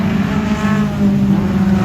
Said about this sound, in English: it's still the Q10 of Bailey Chandler, fastest car on track at the moment